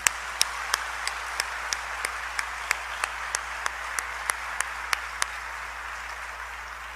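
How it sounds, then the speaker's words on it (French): Audience applause at a Haitian graduation ceremony: evenly spaced, crisp claps ring out in a steady rhythm over a low hum, moderately distant and fairly faint, with no voices. "75 merci et un vibrant applaudissement."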